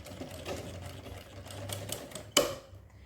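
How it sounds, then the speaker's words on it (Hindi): A sewing machine stitches lace onto a small deity's dress, with soft rapid mechanical clatter heard close and quiet, ending in a sharp clack. "तो ये लगाते हैं अब हम सिलाई।"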